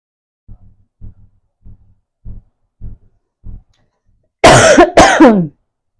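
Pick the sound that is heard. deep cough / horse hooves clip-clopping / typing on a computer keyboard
deep cough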